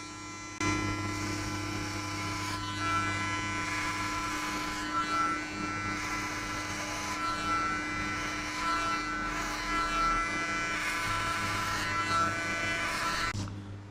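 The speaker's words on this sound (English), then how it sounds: "Next, we will shave the top by number 3." An electric hair clipper buzzes steadily while shaving the top of a head with a number 3 guard during a buzz cut, a close, continuous hum with slight swells as it moves across the hair, no talking.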